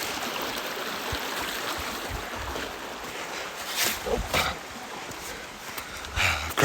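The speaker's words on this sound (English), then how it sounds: "Crossing a river. I got my foot wet." Splashing footsteps and trickling water as a trail runner wades across a rocky river, with irregular sloshes rising and falling close by over a constant stream rush.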